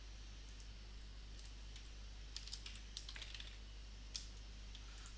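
Computer keyboard keys typed while replying to an email, a scattering of soft, quick clicks in short bursts over a steady low hum in a quiet room, no one talking.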